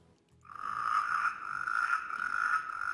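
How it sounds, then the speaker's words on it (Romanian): A chorus of frogs from Lake Mori croaks in a dense, sustained, steady drone that starts abruptly after a brief quiet moment, with no talking. "Ăsta este corul de broaște de pe lacul Mori."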